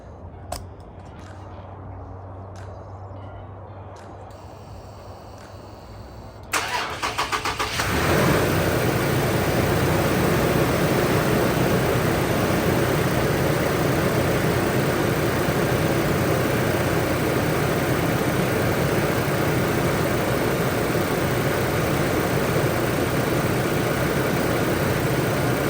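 A third-generation Toyota Tacoma's engine cranks and catches after a few quiet seconds, then settles into a loud, steady idle heard close up that holds without change to the end.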